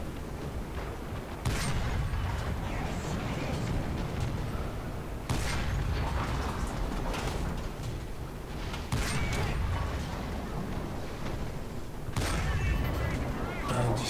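Tank cannon fire from a Panzer 35(t) in the War Thunder video game: a few sharp, heavy shots break through a constant loud engine rumble and battle noise.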